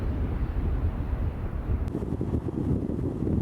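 Wind gusts blow steadily at a roadside stop before a state border crossing, a low constant rumble with buffeting against the microphone and no voices.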